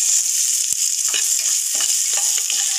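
Turmeric, chili and coriander powder fry in hot oil with a steady, loud, hissing sizzle, broken by a few soft scrapes of a stirring spoon.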